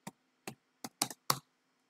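Keys on a computer keyboard are tapped close by in five quick, crisp clicks at an uneven pace, with two of the strokes doubled, over near silence.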